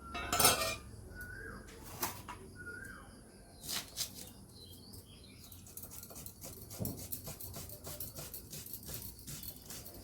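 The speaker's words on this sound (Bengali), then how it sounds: "এখন আমি পেঁয়াজ টমেটোগুলো কেটে নেব।" A knife cuts onions and tomatoes for a home-style egg kosha, producing sharp, irregular clicks and taps against the board with scattered clinks of utensils, close by and fairly quiet, with no talking.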